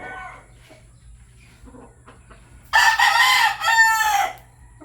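A young gamecock stag crows loudly and close by, a long, strained call with a brief break partway through, standing out over a quiet yard background with faint distant sounds.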